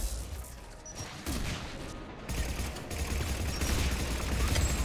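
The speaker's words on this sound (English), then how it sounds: "I'm being shot at" Gunfire aimed at the player in a video game, bursts of rapid shots and booming impacts over a dense battle din, moderately loud and building in intensity toward the end.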